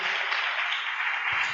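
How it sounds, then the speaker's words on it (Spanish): Congregation applause in a church setting, a brief, steady wash of clapping that sounds band-limited and somewhat distant. "Dale un aplauso a la presencia de Dios."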